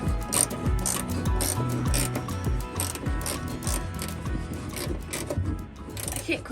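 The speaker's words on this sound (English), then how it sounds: "I'm just ratchet wrenching 13mm nuts back on these seat bases" Ratchet wrench clicking as 13mm nuts are tightened onto Porsche Speedster seat bases, with steady close repeated pawl ticks under a busy mechanical background.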